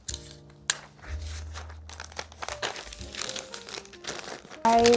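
Packing tape and plastic mailer material crinkle and rustle up close while an order is packaged for shipping, irregular crackly handling with sharp bursts and a loud tearing rip at the end.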